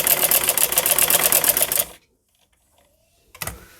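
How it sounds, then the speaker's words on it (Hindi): Sewing machine running a straight line of stitching along a kurta side-slit strip, a loud fast even chatter for about two seconds, then silence and a brief restart near the end. "यहाँ से भी हम इसी तरह से एक सीधी सिलाई लगाएंगे"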